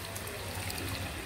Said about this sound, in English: I'm going to add few of the pasta water.